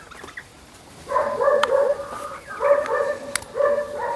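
Chickens on a small Brazilian farm cluck and squawk in short, bunched bursts, fairly close and moderately loud, with a couple of sharp knocks in between and a dog-like yip mixed in, and no speech.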